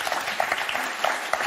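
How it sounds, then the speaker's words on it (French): Studio audience applause on a French TV game show, a steady wash of clapping with a few sharper claps standing out, moderately distant and without speech. "on ne peut pas ne pas applaudir encore plus fort Geneviève et Lydia"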